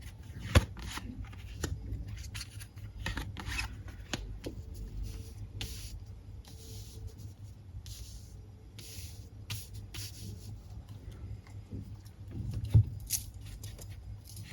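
Osho Zen tarot cards being shuffled and drawn, close soft riffling and flicking in irregular bursts with light taps, continuous and quiet with no talking.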